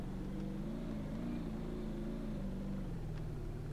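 Car engine held around 3000 RPM in the BeamNG Drive driving game during a winter rally, a faint, steady low drone with no other sounds.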